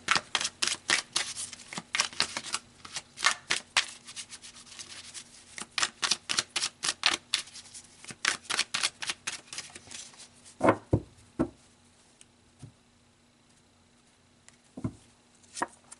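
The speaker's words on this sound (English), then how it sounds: "So let's pull some more cards here." Tarot cards shuffled by hand during a love reading: quick riffling and snapping bursts in close, fairly loud runs, followed by a few separate slaps as cards are pulled and laid down, with no talking.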